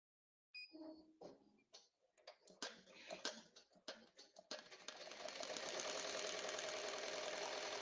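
An embroidery machine running a cut stitch on a patch, starting with irregular clacks and knocks, then settling into a steady, fast, continuous whirring hum that runs to the end, close-up with no speech.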